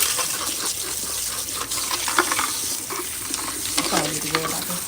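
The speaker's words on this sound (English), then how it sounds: "we're gonna do our last rinse" Running water rinsing hair at a salon sink during a weave process, a steady close splashing hiss with some faint stirring sounds and a brief murmur of voices.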